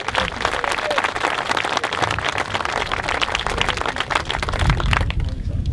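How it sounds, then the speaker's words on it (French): Audience applause at a ceremony in Nice celebrating a woman's 90th birthday, a dense wash of many hands clapping steadily throughout, moderately loud and fairly near, with a slight rise near the end. "On peut l'applaudir."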